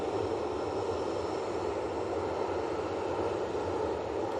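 A Boeing 787-9 Dreamliner in colourful petals livery arrives at Manchester Airport, its jet engines a steady, faint, distant whine and rush with no break.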